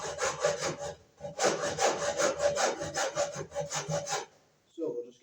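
A hacksaw cuts through the armor of metal-clad (MC) electrical cable in rapid back-and-forth strokes, loud and close. A short pause breaks the run of strokes before the sawing resumes, and it stops with a faint clunk.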